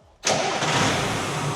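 An expedition truck that has sat idle for six months cranks and fires, its diesel engine catching abruptly after a quiet moment and settling into a loud, steady idle close by.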